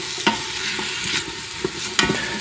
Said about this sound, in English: stir this around every couple minutes until your onions are somewhat translucent and starting to turn brown